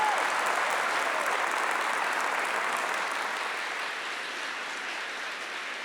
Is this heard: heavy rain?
no